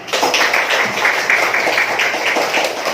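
Schoolchildren in a combined-grade classroom clapping together at the end of a lesson, a loud, close, rhythmic patter of hands lasting a few seconds with no talk.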